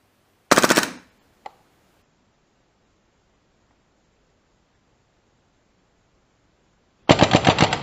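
A KWC PT92/99 CO2 blowback airsoft pistol fires full auto, two loud, close rapid bursts of snapping shots, one near the start and one at the end, separated by a single faint click and a long silence.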